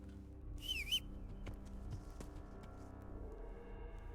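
A brief wavering whistle in the medieval video game Kingdom Come: Deliverance sounds once near the start, clear but short, followed by quiet ambient game background with faint clicks.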